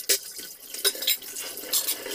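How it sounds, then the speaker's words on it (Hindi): Dishes and utensils are washed by hand in a home kitchen on a winter morning. Short clinks and scrapes of metal come with splashes of running water, close and fairly loud, in quick bursts with no talking. "अब मैं धो ले रही हूँ सब बर्तन फटाफट।"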